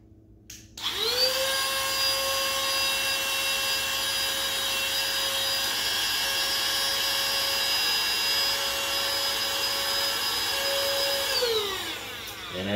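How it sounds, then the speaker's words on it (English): A handheld vacuum sucks the air out of a vacuum storage bag through its valve, running as a steady whining drone for about ten seconds with a clear start and wind-down. "the handheld vacuum sucked all the air out, compressed it"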